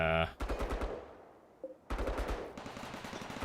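Rapid bursts of gunfire aimed at turrets in the RimWorld video game, two loud rattling volleys separated by a short pause, with faint speech in the background.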